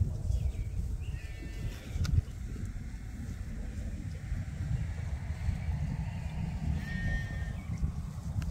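Lambs out on pasture bleat a few times at a distance, thin short calls rising over steady rumbling wind noise.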